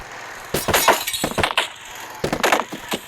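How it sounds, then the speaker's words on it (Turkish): Window glass shatters in the video game Hello Neighbor: a loud crash with tinkling shards over about a second, then a second sharp breaking burst with scattered clinks. "Ya camı kır."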